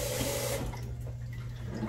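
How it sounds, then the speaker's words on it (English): Running water from a kitchen faucet splashes briefly as hands are washed at the sink during brownie baking, a close steady rush that cuts off, leaving quiet room tone. "Wash my hands real quick."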